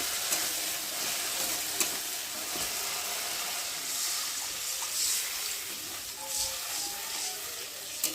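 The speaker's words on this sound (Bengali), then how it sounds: "আর এখন আমি জল দেবো।" Mustard-poppy paste sizzles loudly in a pan as water goes in, a dense, steady hiss and crackle held close and evenly for several seconds, with occasional small pops and no voices.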